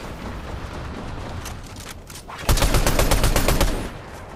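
Rapid bursts of automatic gunfire in the video game Fortnite, a dense rattling volley that starts abruptly partway through and runs for over a second before cutting off.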